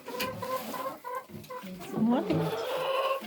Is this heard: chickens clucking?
yes